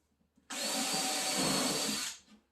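A power drill whirs in one continuous burst of about a second and a half while driving a screw into the plywood back of a cabinet, nearby and fairly loud, with no talking.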